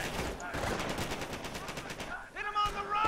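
Machine gun fire in the World War II strategy game Company of Heroes 2, U.S. Army faction, on the St. Hilair map: dense, continuous rattling bursts that end in a short break, then further shots and battle noise.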